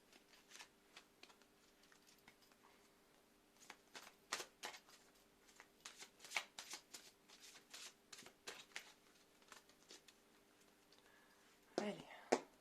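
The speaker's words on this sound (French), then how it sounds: "Je crois que des fois je mélange très mal mes cartes." Tarot cards being shuffled by hand at close range, a string of crisp riffling bursts and soft card slaps with short pauses between them, quiet overall.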